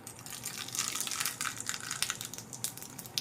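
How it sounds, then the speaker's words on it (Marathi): Mustard seeds sputtering and crackling in hot oil for a tadka, a dense run of quiet, irregular pops and sizzles close by with no talk. "आता आपण याला तडका देऊन घेणार आहे तेल घेतलेले आहे मोहरी"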